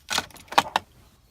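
BMW car keys on a keychain jangling briefly up close, a quick cluster of metallic clinks followed by two sharp chimes, then silence.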